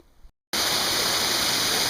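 Flowing mountain stream at Flume Brook near Kinsman cabin, a steady loud rushing of water that cuts in abruptly after a brief silence and then holds constant to the end.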